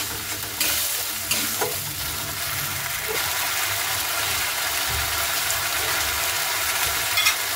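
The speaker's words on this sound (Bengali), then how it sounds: "এবার ভালো করে মশলাটাকে কষিয়ে নেব।" Spice masala for a vegetarian potato and green pea curry sautéed in hot oil in a pan, a steady close sizzle with occasional scraping stirs and clinks throughout, no talking.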